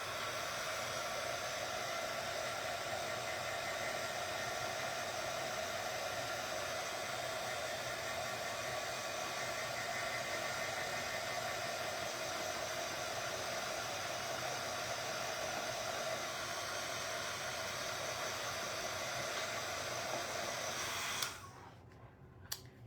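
A hair dryer blows steadily to dry freshly painted nails with a matte finish, a loud continuous rushing whoosh that runs unbroken for about twenty seconds before clicking off near the end.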